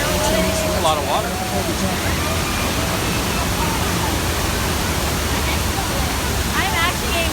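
Loud, steady rush of splashing water surrounds a Universal Studios tram ride, broadband and unbroken for several seconds, with riders' voices and shouts faintly mixed in.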